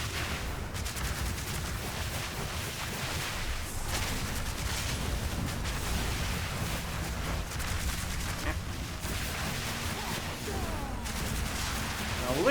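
Dense distant gunfire and explosive blasts in Path of Exile 2, a continuous rumbling barrage of shots with a voice talking faintly underneath.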